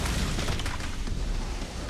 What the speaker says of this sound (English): There's a gas station fight against a huge zombie horde with explosions and fire.